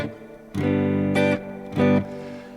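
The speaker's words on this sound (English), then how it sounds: "It's a nice plate reverb." Guitar played through the Flick effects pedal's Dattorro plate reverb, two or three sustained notes and chords ringing out with a long, smooth decaying tail between quiet gaps.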